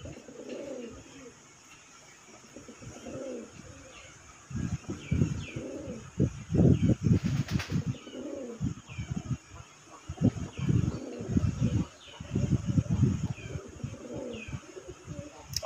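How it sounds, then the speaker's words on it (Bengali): Red desi colouring golla pigeons coo close by in repeated throaty bursts that swell and fade, with a few light chirps and rustles between them. "দেশি কালারিং গোল্লা কবুতর যে ডাকের রাজা, আপনারা দেখতেই পাচ্ছেন"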